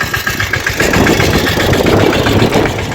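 A Yuvraj tractor engine runs in a field, a loud close steady rumble with a throbbing low chug and no pauses.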